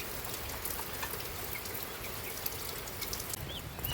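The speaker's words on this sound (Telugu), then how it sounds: "వర్షం అయితే పడుతుంది" Steady rain patters down on farmland across the whole stretch, a dense even hiss with occasional faint bird chirps far off.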